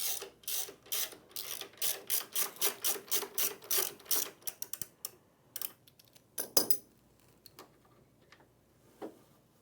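Ratcheting clicks from a wrench working the shoulder bolt free of a buffer brush on an IKON floor machine, a steady run of close, sharp ticks for several seconds, then a few scattered clanks and a louder knock as the part shifts.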